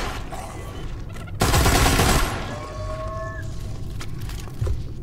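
Full-auto rifle fire in the Metro Awakening VR game, a dense loud burst of rapid shots lasting under a second, set against quieter background game ambience.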